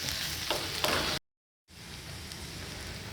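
Onions, green chillies and ginger-garlic paste sizzle in hot oil for aloo curry, a steady close crackle broken by a brief moment of total silence before the frying resumes.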